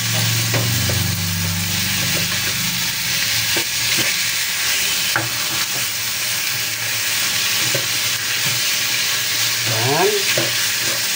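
Chicken pieces sizzle steadily as they are stirred in a hot pan for hoisin chicken, with scraping and clinking of the utensil over a constant frying hiss and a brief spoken word.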